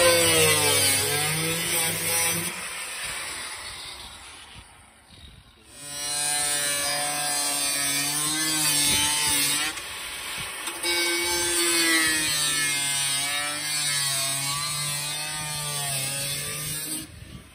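A BMW E36 interior panel being cut along a traced pattern: a close, loud, buzzing power-tool drone that rises and falls in pitch, breaks off briefly partway through, then resumes and runs on steadily.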